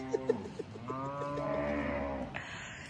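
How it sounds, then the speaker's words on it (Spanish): A farm animal lets out a drawn-out bleating or lowing call, close and fairly loud, with faint clicks and rustling around it in a pen full of sheep and cattle. "Está lleno de borregos aquí"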